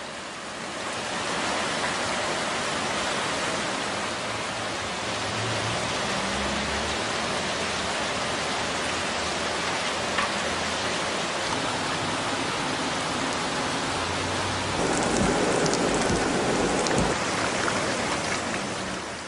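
Rain falls steadily on a completely flooded new-home lot, a dense broadband hiss with scattered drip and splash detail, even and moderately loud, swelling slightly near the end.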